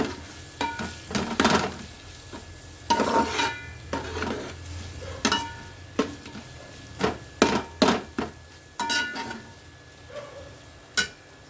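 A spoon scrapes and knocks against a pan again and again in irregular bursts as masala powder is stirred into a chicken fry mixture, with a low sizzle beneath and no talking.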